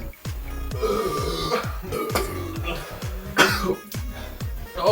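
Young people gulp Four Loko and let out a string of loud, rough burps and coughs in rapid succession, close to the microphone, with some talking mixed in.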